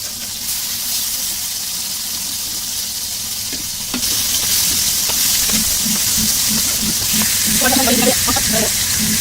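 Pangas fish pieces frying in hot oil, a loud continuous sizzle and hiss that intensifies partway through, with stirring and spattering near the end and no talk.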